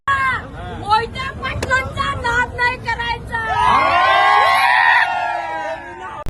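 A crowd celebrates an election victory for MP Dhairyashil Mohite Patil in Akluj, with dense cheering, shouting and whistles throughout, rising into a sustained, loud, high-pitched roar of voices in the second half.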